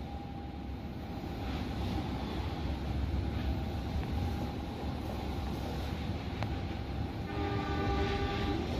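A train on the line toward Bandung rumbles past at a level crossing near Leles and sounds its horn in long tones as a crossing signal, heard from trackside with no voices.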